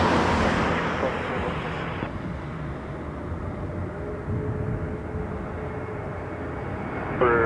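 At Toronto Pearson Airport, an airplane roars on takeoff, a steady loud jet engine drone holding throughout with a faint radio voice briefly over it.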